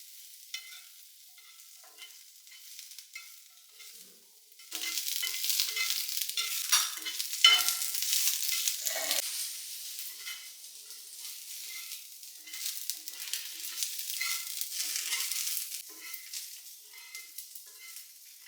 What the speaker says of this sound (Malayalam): അപ്പൊ ഇനി നമുക്ക് ഒക്കെ ഒന്ന് വഴറ്റട്ടെ വെളിച്ചെണ്ണയിൽ